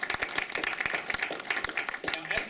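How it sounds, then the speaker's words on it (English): Applause and scattered clapping patter along beneath a speaking voice, moderately loud and continuous. "And that, I think, you can all applaud."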